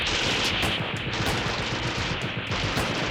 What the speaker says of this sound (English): he barely made it to the sidewalk before the bullets started flying